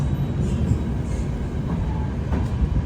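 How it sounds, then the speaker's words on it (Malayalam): The Humsafar Express rolls into Bikaner Junction with a steady, heavy rumble of wheels and carriages heard from inside the train, plus faint creaks and a light squeal near the end. "ഫൈനലി ബിക്കാനീർ ജംഗ്ഷനിലേക്ക് ഇതാ ട്രെയിൻ എത്തിയിരിക്കുകയാണ്."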